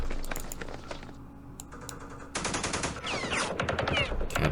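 Mortar fire in the war strategy game Campaign Series Middle East during the Battle of Jerusalem: sharp, rapid gunfire-like bursts and crackling blasts, building into a loud, dense barrage.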